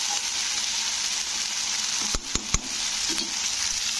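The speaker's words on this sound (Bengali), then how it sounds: "তো টমেটোটা যতক্ষণ না নরম হয়ে গলে যাচ্ছে ততক্ষণ কিন্তু নাড়তে হবে মশলাটাকে।" Tomato frying with ginger and cumin in a pan for a Bengali bottle gourd and prawn curry, a steady close sizzle with a few sharp spoon scrapes and taps as the masala is stirred, no voices.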